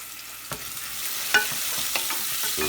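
Apples being stirred in a frying pan with a pinch of salt, a steady soft sizzle broken by several sharp scraping clicks of the utensil against the pan, fairly close and without talk.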